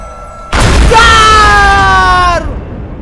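A loud, whooshing Rasengan jutsu attack from the Ninja Hands video game surges in abruptly and holds with a rising, swirling tone for about two seconds before cutting off.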